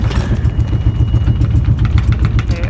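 A sailboat's slightly overheated engine chugs steadily and loudly at idle, a close, continuous throbbing rumble with no voices over it.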